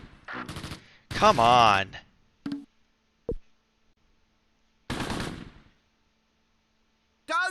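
Brief bursts of machine-gun and rifle fire from the WWII tactical game Close Combat, set at Gavrus in Normandy in 1944, with a few sharp isolated shots between them. Someone talks loudly over and between the shots.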